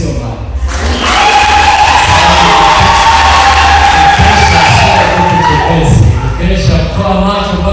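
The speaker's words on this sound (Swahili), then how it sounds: "Mkinipigia makofi sio mbaya." Applause and cheering from a church congregation at an overnight worship service, a dense sustained crowd roar that swells after the first second and stays loud throughout.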